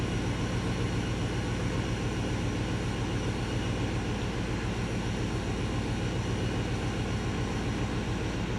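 A supercharged Toyota 1UZ V8 sits at idle in a Hilux ute. It gives a loud, continuous, close engine drone with a lumpy, pulsing beat underneath, and no other sounds.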